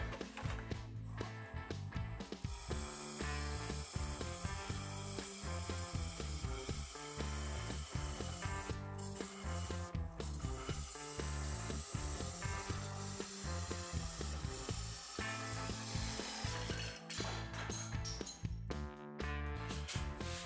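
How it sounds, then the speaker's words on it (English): Wood lathe turning at 1000 RPM while a parting tool cuts the outside of a segmented wooden piece, giving a continuous scraping, chattering whir that stays steady and loud throughout with no talk. "I'm going to be turning this right now at 1000 RPM, and I'm just going to use the parting tool to take off the outside."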